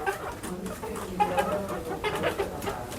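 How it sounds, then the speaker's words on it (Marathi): Hens cluck softly and repeatedly close by, a run of low murmuring clucks against faint outdoor background noise. "अशी कोंबडी टाकतात आमच्याकडे झापात"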